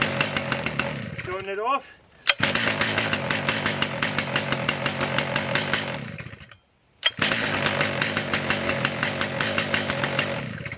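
A Stihl MS 881 or Husqvarna 3120xp chainsaw idles loudly with a steady, rough engine putter, briefly cutting out twice before resuming; a voice speaks over it near the start.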